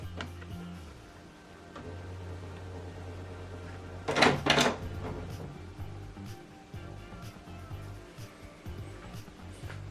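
The door of a Canon wireless printer is pushed shut, giving one brief plastic clunk and rattle in the middle of a quiet room with a low hum.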